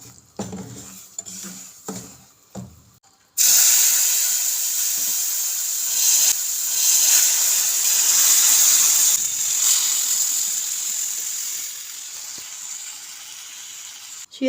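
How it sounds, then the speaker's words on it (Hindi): Hot sugar syrup poured into semolina fried in ghee bursts into a loud, steady sizzle and hiss that runs unbroken for about ten seconds after a few quiet clinks of a pan, then eases slightly. "अब हम इसमें शीरा ऐड करेंगे।"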